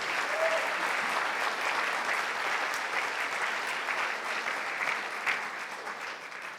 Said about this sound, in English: give a round of applause for all of our storytellers